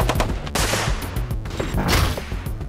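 Recorded weapon gunfire as an extreme sound effect: a dense, loud fusillade of sharp shots and bursts, close and continuous for the whole stretch, with no talk.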